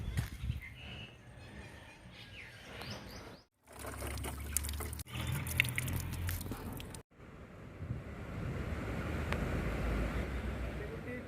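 Water drawn from a village tubewell flows and splashes steadily, with a brief break and an abrupt cut partway, then continues as a broad rushing stream close by.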